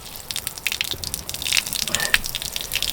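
Water draining from the low point drains of an RV's plumbing during winterization, a steady trickling and splashing with small drips and gurgles, close and moderately quiet, with no talk.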